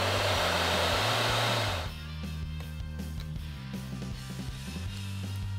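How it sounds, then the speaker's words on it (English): A hair dryer blows loudly and steadily at close range on a sticker on a toy box, its whooshing tone dropping slightly partway through and then holding a lower hum. "Another good use for a hairdryer is stickers on your box."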